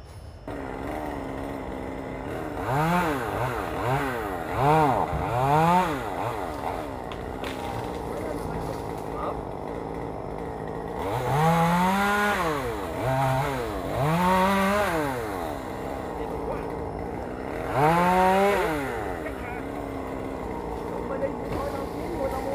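A chainsaw cutting paperbark acacia trees repeatedly revs up and down in rising, whining bursts, grouped in clusters with quieter idling between them.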